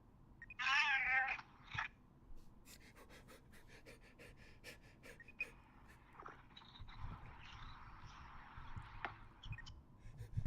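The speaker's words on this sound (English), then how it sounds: "Was that a cat?" A cat meowing, heard as a sharp, high meow near the start followed by quieter panting and breathy sounds over a faint background.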